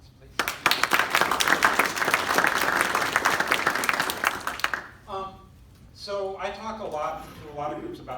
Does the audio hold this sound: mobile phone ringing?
no